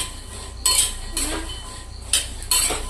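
Masala almonds with salt and spices are stirred in a pan, a spoon scraping and clinking against the metal in four distinct bursts separated by brief pauses, close and clear.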